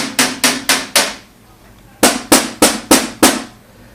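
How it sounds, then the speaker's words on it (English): The side panels of a Raijintek Thetis PC case are pressed repeatedly, giving two sets of five sharp, knocking rattles in quick succession, close and loud with a short quiet gap between. "this case makes this noise when you press the panels"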